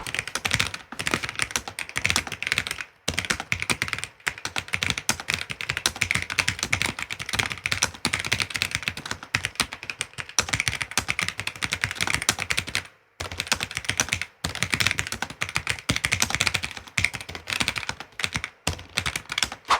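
Rapid, continuous typing on an Epomaker Luma100 low-profile keyboard, close and crisp, with dense clacking keystrokes and a few short pauses, heard alone.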